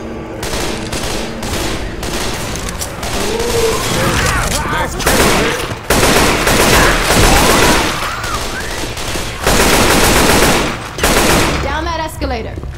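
Dense game gunfire from Left 4 Dead 2: rapid bursts and shots crackle almost without pause across the clip, with shouting voices mixed in, loud and close throughout.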